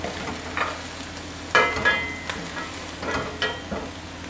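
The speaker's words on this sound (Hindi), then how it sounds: "हम चम्मच से यूं इसके छोटे पीसेस करते जाएंगे, इस तरह से।" A spoon repeatedly chops and scrapes soft scrambled egg into small pieces in an oiled pan, giving irregular scraping knocks over a continuous gentle sizzle, close and clear.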